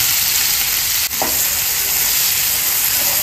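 Onions fry in oil already used for frying chicken, producing a loud, dense, continuous sizzle that stays steady throughout, with one brief dip and a small clatter near the start.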